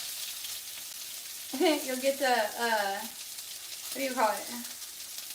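Cornmeal-breaded shrimp fry in hot oil with a steady background sizzle while being stirred, and a person talks briefly over the crackling at moderate loudness.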